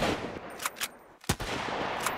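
Gunshots fired at wooden stairs in the survival game Sunkenland, a few sharp separate cracks spaced irregularly, close and loud with no talking.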